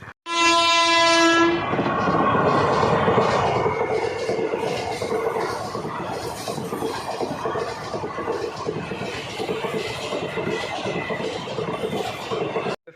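A train passes a closed railway crossing gate, opening with a loud sustained horn blast, then a long rumbling roar of wagons rolling by with rhythmic rail clatter, close and continuous until it cuts off.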